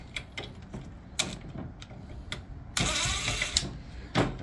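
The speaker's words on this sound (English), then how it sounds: "Right, I'll take these two screws out." Screws being removed from a window sash balance in a Peachtree Ariel double-hung non-tilt window, with scattered close mechanical clicks and ratcheting taps, then a longer burst of whirring driver noise.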